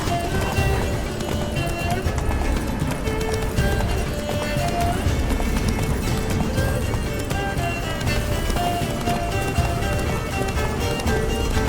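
Video game horse Roach galloping: continuous rapid hoofbeats in a dense, loud mix with music and ambience throughout, no clear pauses.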